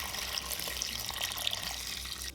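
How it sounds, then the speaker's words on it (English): Water runs steadily from a tap into a large bowl of sliced lotus roots, a soft continuous splashing and trickling heard alone at low level. "Add in the water"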